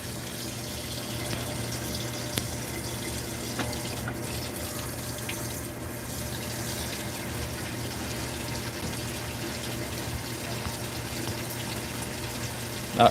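A Whirlpool WTW5057LW0 HE top-load washer fills with water on a jeans cycle, giving a steady, close rush and hiss of flowing water with faint mechanical hum. A short click comes near the end, and no one speaks.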